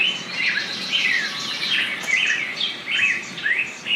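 Several birds chirp and trill in a forest in steady, overlapping phrases, fairly close, over a soft background hush with no voices.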